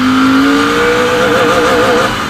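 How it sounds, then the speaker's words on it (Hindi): A Royal Enfield Continental GT650 with a 650cc engine accelerates hard in first gear, its loud engine note climbing steadily in pitch from close by. "I'm on the first gear, the RPM is 5000. Let's see how it goes."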